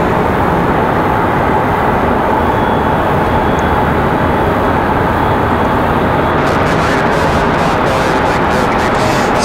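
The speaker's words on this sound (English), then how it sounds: "that last departure, Moxie 745 off to Fort Myers, Florida" A Breeze Airways airliner departing Raleigh-Durham airport for Fort Myers, Florida: a loud, steady, broadband jet roar that fills the whole stretch, with gusty buffeting creeping in toward the end.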